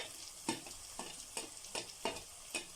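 Onions frying in a pan while being stirred, with periodic scraping strokes roughly every half second over a soft, steady sizzle, close and moderately quiet, no voices.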